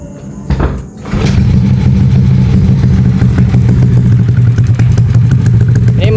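A Yamaha Aerox 180cc scooter engine, bored up with an RX7 63 piston block, starts with a brief clatter and then runs cold, a loud, steady, slightly rough and uneven near idle throughout.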